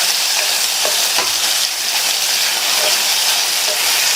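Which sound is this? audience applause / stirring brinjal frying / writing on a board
stirring brinjal frying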